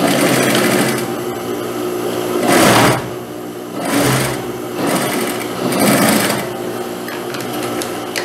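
A sewing machine stitches a dress seam with a pocket in close, loud bursts, running in several separate passes with brief slowdowns between them and no talking.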